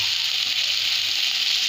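Water poured into a hot pan while cooking lentil dal with cauliflower and flat beans gives a steady, loud hiss that holds evenly throughout with no voices.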